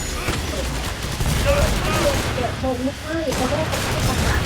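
Shotgun fire rings out in the video game Killing Floor 2: loud, continuous blasts fill the scene while a person talks excitedly over the shooting.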